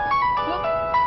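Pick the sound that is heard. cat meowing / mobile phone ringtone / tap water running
mobile phone ringtone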